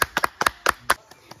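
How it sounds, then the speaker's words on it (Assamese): A few people clapping for the winning bride at a bride contest, six or seven sharp, close claps in a quick uneven burst that trails off into quieter, softer taps. "তেখেতলৈ এটা ডাঙৰ হাত চাপৰি।"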